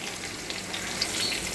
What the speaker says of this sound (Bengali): পেঁয়াজ ভেজে নিচ্ছি।